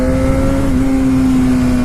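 A steady, fairly loud exhaust drone with a smooth constant pitch from a motorcycle with the baffle installed in its exhaust, idling or holding revs, subdued in tone and unbroken for the brief moment.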